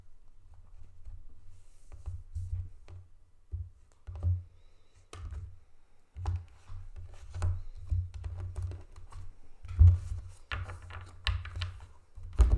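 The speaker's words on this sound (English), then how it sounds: "So I'm going to cut the deck." A tarot card deck being cut by hand, with soft repeated card taps, shuffles and thunks in an irregular rhythm, close and fairly quiet, with no talking.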